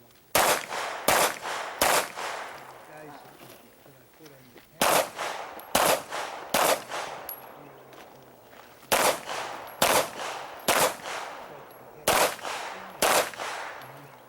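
Pistol shots during an IDPA match stage at Charlotte Rifle & Pistol Club, fired freestyle at two targets in quick groups of three, loud and sharp, separated by short pauses, with quiet talk between strings.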